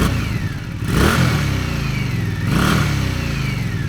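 Indian Scout motorcycle on its stock exhaust revs twice at close range, each throttle blip rising sharply over a steady idle rumble, with faint mechanical clatter in between.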